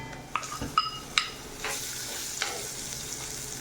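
Salted, pre-cooked papaya pieces for pickle drop into a frying pan with a few sharp metallic clanks, followed by soft stirring and a low sizzle, close and fairly quiet.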